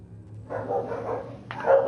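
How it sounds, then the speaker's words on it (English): Dogs bark in a short, fairly faint burst of yaps that rises and swells toward the end, sounding a little distant, with no talking over them. "Dogs are going crazy."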